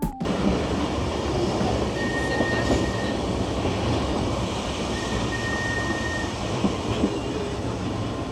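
A train rumbles steadily along the tracks, a continuous loud roar with faint squeals of wheels, heard from inside a carriage.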